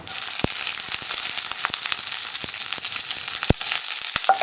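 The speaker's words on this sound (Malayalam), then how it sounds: "ഇത്രയും ചേർത്ത് നന്നായിട്ടൊന്ന് ഇളക്കി കൊടുക്കുക." Dried red chillies, curry leaves and mustard seeds frying in hot oil for a cabbage thoran, a continuous crackling sizzle punctuated by sharp pops and spits, close and fairly loud.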